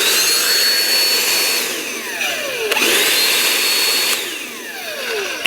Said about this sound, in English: let's do a little vacuuming on the floor, see how it picks up here